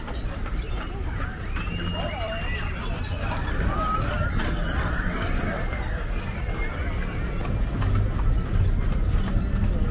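Horse hooves clip-clop at Knott's Berry Farm amid a busy outdoor crowd, the steady clopping fairly faint and partly buried under background chatter and ambient noise.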